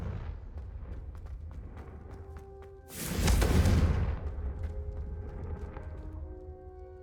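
The Confringo blast spell in Hogwarts Legacy goes off as one loud fiery burst with a deep boom that swells and fades over a couple of seconds, set against game ambience.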